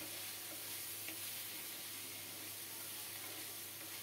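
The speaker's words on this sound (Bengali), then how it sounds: "তিন চার মিনিট কষানোর পর এখন নেড়ে দিচ্ছি" Spices for a Bengali fish curry frying in a pan over low heat: a steady, even sizzle close by with soft stirring scrapes, no voices.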